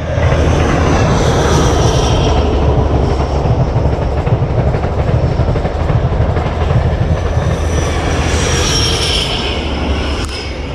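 A passenger train runs past on the Midland Main Line beside a canal towpath, a loud, steady rumble with wheel clatter and some squeal holding for the full stretch, up close and with no talk.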